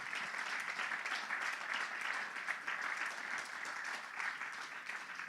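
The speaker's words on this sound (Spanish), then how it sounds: "Un aplauso fuerte al Señor." Sustained, dense applause from a congregation at a church service fills the space, steady and even throughout with no voices standing out.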